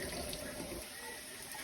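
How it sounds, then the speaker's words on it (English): Water poured into a hot pan of shrimp dumplings, a brief splashing sizzle that quickly fades into a quieter hiss, faint and close. "then we're going to add the water and cover to cook the tops right away"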